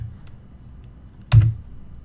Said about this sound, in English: let's type in neofetch